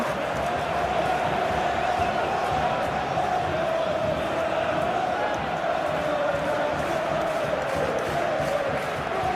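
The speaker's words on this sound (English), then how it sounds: "the crowd clearly like what they just saw" A stadium crowd roars steadily in a Premier League football video game simulation of Bournemouth versus Chelsea, a dense continuous cheer with commentary voices faintly under it.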